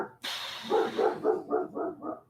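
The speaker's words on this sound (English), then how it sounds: "Can y'all hear that? That's Ragnar barking." A dog barks six times in a steady rhythm, each bark fairly close and moderately loud, after a brief burst of broadband noise at the start.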